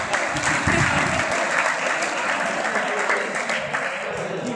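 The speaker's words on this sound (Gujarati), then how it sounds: "તાળી વગાડી દેવા, તાળી." Gujarati school audience at a ceremony clapping together, a loud, dense burst of applause sustained throughout with a faint murmur of voices underneath.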